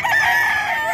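Rooster, a nine-month-old stag, crowing loudly and close at a Bocaue pet market, one sustained crow with a rising then falling call lasting about a second.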